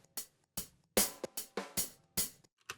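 A dry, unprocessed hi-hat with no reverb, from a punk-meets-classic-rock production, playing about eight crisp, sharp hits in an uneven rhythm with silent gaps between them, close and fairly quiet.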